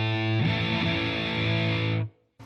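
A distorted electric guitar chord sustains through a pedal with the focus knob engaged, giving a scooped-mid tone with strong lows and highs, ringing for two seconds before cutting out sharply, then a brief follow-up hit.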